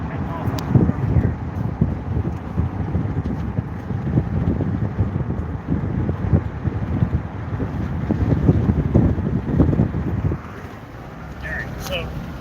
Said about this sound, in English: it's really freaking windy. And now that's all you're hearing